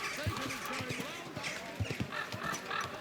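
A horse's hooves clop along at a walking pace in the video game Kingdom Come: Deliverance 2, fairly close, with brief talk and ambient tones mixed in.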